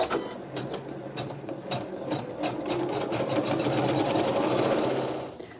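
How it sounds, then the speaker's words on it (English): An embroidery machine sews embroidery with thread in a quilt block, a loud close hum with rapid rhythmic needle knocks that build and then slow to a stop near the end. "we are putting thread G in the needle only and sewing some more embroidery"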